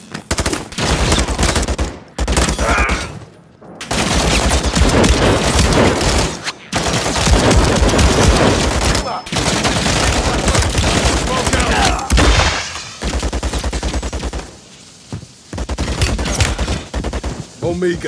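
Turret gunfire in Call of Duty Modern Warfare III: loud, sustained bursts of rapid automatic fire run for long stretches, broken by brief pauses, with some voices in the mix.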